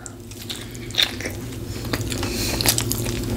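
Biting and chewing a large Five Guys burger, with a few crisp bites near one and two-and-a-half seconds over steady soft mastication, close and moderately loud with no talking.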